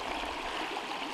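A mountain stream of snowmelt in Olympic National Park, a steady, close rushing and splashing of water that never pauses, with no voices.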